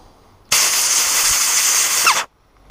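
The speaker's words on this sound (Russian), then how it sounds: "Так, продуем жиклер." Compressed air blasts through a two-stroke carburetor jet in one loud, steady hissing burst lasting under two seconds, starting and cutting off abruptly, with no speech.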